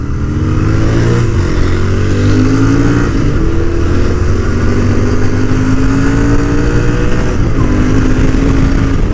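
A motorcycle engine drones steadily while riding, with rising and falling pitch as it shifts and accelerates, loud and close amid wind noise, no talking.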